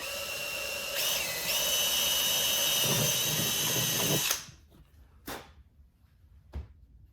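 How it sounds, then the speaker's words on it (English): A power drill bores a screw hole in a panel of a 2022-or-later BMW motorcycle during an audio kit install: a loud, steady whine that shifts pitch partway, cuts off after about four seconds, then a couple of brief clicks follow. "We can go ahead and drill out for our other screw on the bottom."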